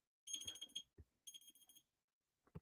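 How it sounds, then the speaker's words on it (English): Electronic countdown timer beeps at an auction, a fast series of bright tonal pulses in two bursts, then a couple of short isolated thumps and a final blip, loud and close with no talk. "We need 4 beeps."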